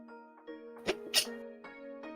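A single sharp sneeze bursts out near the mic in the middle of a livestream host's cough-ridden session, followed shortly by a second, smaller sneeze-like burst, set against a steady tonal background hum.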